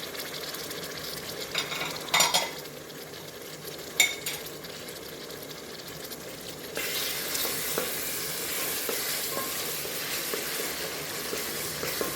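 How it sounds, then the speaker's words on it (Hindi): Finely chopped tomatoes drop into a pan of frying cauliflower and meat curry. Brief clatters and stirring come first, then a steady, loud sizzle takes over and continues to the end, with no talking. "अब इसके अंदर हम ऐड करने लगे हैं टमाटो जो बारीक बारीक हमने काट के रखे हैं।"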